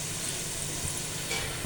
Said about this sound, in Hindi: हमारे जो प्याज हैं वो फ्राई होने वाले हैं।